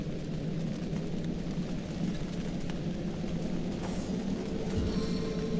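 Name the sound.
rain in the video game Divinity: Original Sin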